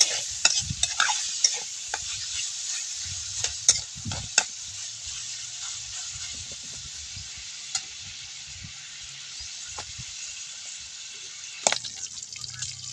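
Tilapia fries in a pan with a continuous bubbling sizzle and scattered sharp pops and spatters, close and fairly loud, with no voices.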